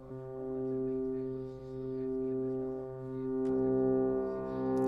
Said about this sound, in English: And now we get these really cool swelling piano notes.